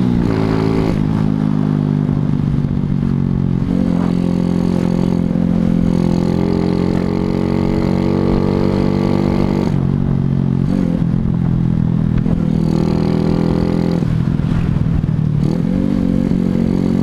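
A Suzuki Shogun SP 125 racing motorcycle is ridden with its engine droning loudly and continuously, the pitch rising and falling gently with throttle changes, alongside some rattling clatter.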